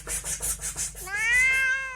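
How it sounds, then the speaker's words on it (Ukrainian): A cat meows once, close and clear, with a rising then falling drawn-out cry following a run of soft rhythmic rustling pulses, with no talking. "Ніби котик нявкає."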